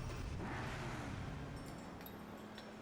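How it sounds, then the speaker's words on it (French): A steady, low car engine rumble in the video game Lego City Undercover drones throughout with no one speaking, a continuous mechanical hum like a car idling or cruising. "Vous avez entendu le moteur là?"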